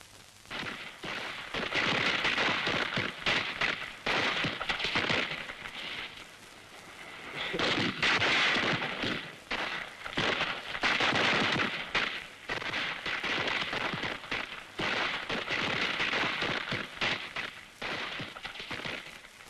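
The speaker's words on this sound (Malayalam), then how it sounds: "നീ വെടിക്കെട്ട് കാണുന്നില്ലേ?" Festival fireworks in a Malayalam film, a long barrage of loud, booming bursts and crackling volleys that swell and fade in waves, dense and continuous across the whole stretch.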